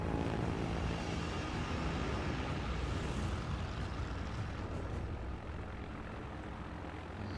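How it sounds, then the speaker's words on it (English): Launched planes in World of Warships: Legends drone steadily with a broad, continuous aircraft-engine roar that stays loud and even, fading slightly toward the end, with no speech. "I may as well put some planes in the air."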